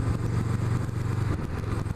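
A 2017 Honda CMX500 Rebel idles through its shotgun-style 2-into-1 straight-pipe exhaust, giving a steady, close, low thumping rumble that holds even for the whole stretch with no talk.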